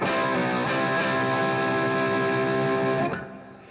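A distorted electric guitar chord rings out, restruck twice with bright attacks, sustaining steadily before sliding and fading at the end.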